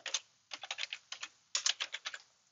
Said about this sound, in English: let's now go back to our terminal and type again Python 2